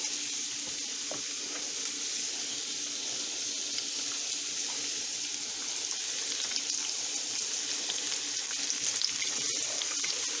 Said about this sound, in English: we want to spoon off globs into the oil